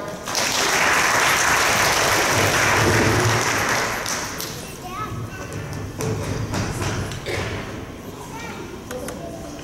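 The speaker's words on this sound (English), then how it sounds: "Join me in giving a round of applause to this class for their promotion to the 4-year-old preschool." An audience at a preschool class promotion ceremony claps loudly and steadily, the applause swelling at first, then easing to a lighter patter with some voices mixed in.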